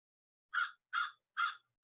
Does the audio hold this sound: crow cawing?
yes